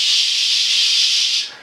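Several voices together imitate a boiling kettle, producing a steady, loud, breathy hiss that holds evenly for about a second and a half and then fades out, with no spoken words.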